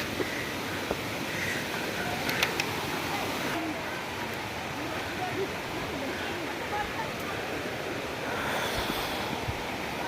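Water rushing over Khajuribani waterfall in Keonjhar, Odisha forms a dense, continuous roar with wind buffeting the microphone, while people talk over it.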